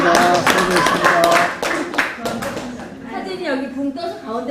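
Congregation clapping at a seminary opening worship service in Korea: a loud burst of many hands that tapers off after a couple of seconds, followed by people talking and chuckling nearby.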